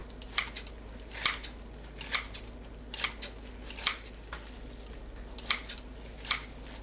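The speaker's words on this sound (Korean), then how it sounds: "냄비에 불린 미역을 먹기 좋게 자릅니다." Soaked miyeok seaweed being snipped into bite-size pieces in a pot for soup, about a dozen crisp, sharp cutting sounds at an irregular rhythm. The cuts are close and moderately loud over a quiet background.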